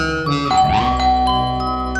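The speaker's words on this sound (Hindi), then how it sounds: "दरवाजे की घंटी बज रही है" A two-tone doorbell chime rings out once, close and clear, its notes lingering and overlapping briefly before fading.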